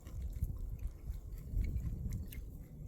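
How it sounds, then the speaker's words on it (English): Homemade maple granola with chia and ground flax seed crunched close to the mic, with steady, dense chewing and biting noises running through the whole moment, with no talk. "You hear how crunchy that is?"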